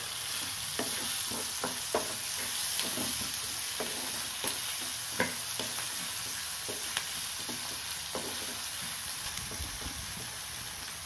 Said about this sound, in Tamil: தக்காளியும் 1 நிமிஷம் வதங்கணும்.